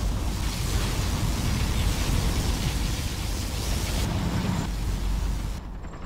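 A particle cannon blast in Command & Conquer Generals, a dense roaring wash of explosive noise sustained for several seconds, loud and broad before tapering slightly at the end.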